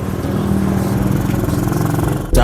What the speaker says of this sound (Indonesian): kita mau coba rasakan gimana sensasinya ATV 125 Diesel versi Matic ini